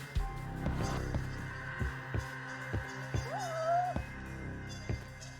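A cat meows in the video game Judgment, one short rising-and-falling call near the middle over steady game music and a thumping rhythmic beat.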